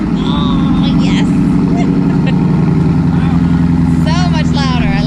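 A Camaro SS 1LE V8 fitted with an MBRP race catback exhaust rumbles loudly and continuously at close range, a deep steady drone, while people talk over it.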